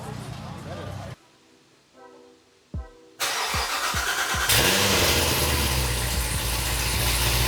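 A 1000+ horsepower BMW G80 engine cranks with a few stuttering bursts on a cold start, then catches and roars into a loud, rough idle that stays steady.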